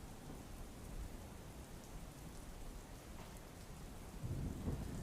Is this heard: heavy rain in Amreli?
yes